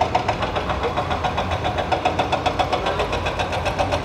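A travel vehicle in poor condition runs on a foggy road in Nepal, its engine loud and close in a steady rhythmic rumble with faint knocking pulses throughout.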